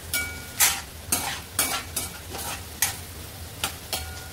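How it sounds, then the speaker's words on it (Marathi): Vegetables frying in hot oil until golden brown, a continuous close sizzle punctuated by repeated rhythmic scraping stirs of a utensil in the pan, with no speech. "तुम्हाला तोपर्यंत फ्राय करायचं जोपर्यंत आपले गोल्डन ब्राउन होत नाही"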